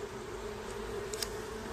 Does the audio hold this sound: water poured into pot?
no